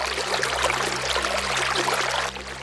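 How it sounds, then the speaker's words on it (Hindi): Cartoon waterfall inside a cave, a steady rushing and trickling of water with a low hum underneath, continuous and fairly loud, easing slightly near the end. "उसे एक तरफ झरने की आवाज सुनाई देती है"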